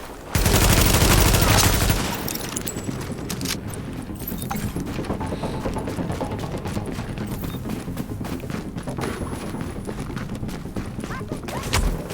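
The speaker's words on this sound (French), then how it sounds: "c'est l'autre là-haut qui me tire dessus là" An enemy fires at the player in the shooter video game The Division. A loud burst of gunfire opens, then rapid crackling shots rattle on steadily at moderate loudness for several seconds.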